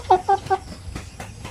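Pure Basilan chickens give three short, close clucks in quick succession, followed by softer scattered farmyard sounds.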